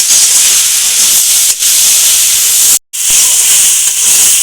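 Water spinach frying with garlic in a pan gives off a loud, steady sizzling hiss, broken by a brief pause near the end.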